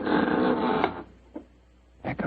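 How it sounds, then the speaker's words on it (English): A front door opens in an old-time radio drama sound effect: a sustained broadband creak for about a second, then quiet with a faint knock and a short clunk near the end. "There goes the front door."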